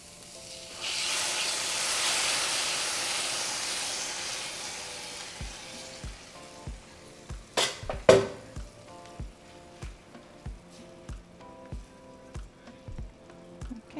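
Salsa poured into a hot pan bursts into a loud hissing sizzle that slowly settles, followed by a regular series of soft knocks and taps from stirring, with no voices.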